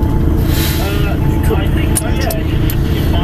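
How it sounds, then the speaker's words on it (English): A truck's air handbrake is set with a brief hiss of released air over the steady rumble of an idling heavy engine, as a voice speaks nearby. "Okay, handbrake."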